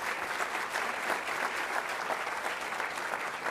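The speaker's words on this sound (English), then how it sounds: "Could we do one more round of applause?" An audience at a plenary panel on water and health applauds, a dense, even round of clapping from many hands that holds steady throughout, with no voices over it.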